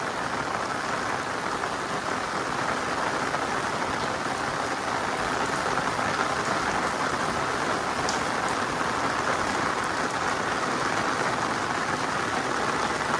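Heavy downpour in the Gir forest, a dense, continuous roar of rain on surfaces at steady loudness throughout, with no voices.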